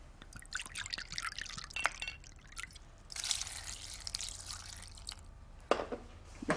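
White wine is poured into a pan of melting cheese in a home kitchen, making soft, quiet liquid trickling and splashing in uneven bursts, with clinks and small drips between.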